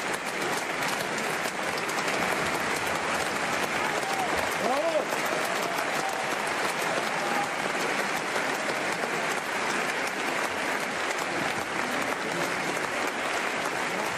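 Dense, steady applause from an audience runs unbroken for about fourteen seconds, even and loud throughout, with a faint voice briefly audible beneath the clapping.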